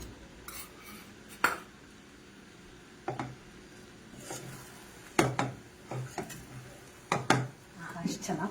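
A spoon scrapes and clinks against a pan while paneer avalakki (flattened rice with paneer and grated fresh coconut) is mixed, giving sparse, irregular taps over a quiet background.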